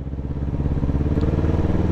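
A BMW S1000RR superbike fitted with an Orion Pipe aftermarket muffler rumbles at idle, a loud, close, steady burbling exhaust note with a rapid pulsing rhythm and no talking.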